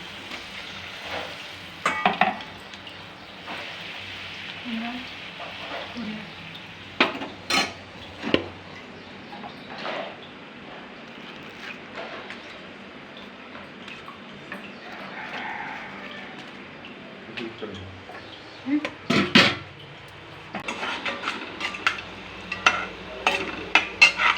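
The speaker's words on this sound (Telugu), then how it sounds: "చూడండి పూరి ఎలా పొంగుతుందో" Puri deep-frying and puffing in oil gives a soft, intermittent bubbling sizzle. Sharper bursts of utensil clatter and stirring break in irregularly over a quiet kitchen background.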